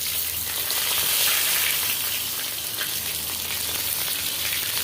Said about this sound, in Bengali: দিয়ে দিচ্ছি কাঁচা লঙ্কা কুচি, পেঁয়াজ কুচি।